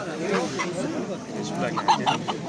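Chickens and a rooster at a busy poultry bazaar in Andijan cluck and call steadily throughout, mixed with market chatter and people talking nearby.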